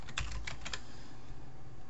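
Several quick keystrokes tap on a computer keyboard while a password is entered, a short faint cluster of clicks in the first second that fades into quiet room hiss.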